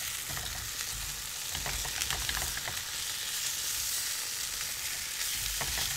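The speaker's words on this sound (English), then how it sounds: "here are 2 sausages, which actually need to be placed on the pan directly" Two sausages sizzle and fry in a pan beside potatoes over a fairly high flame, a steady close crackle with scattered pops throughout.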